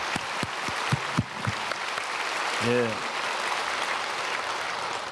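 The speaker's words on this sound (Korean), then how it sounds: "우리 목사님에게 박수하겠습니다" A church congregation applauds the pastor at a Sunday worship service, steady clapping from a large hall that rises and holds throughout, with a short spoken reply over it.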